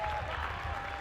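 Softball crowd on its feet at Bogle Park during a college game, Missouri against Arkansas, with its final strike pending, giving a dense, steady roar of cheering and applause that holds loud for the full second.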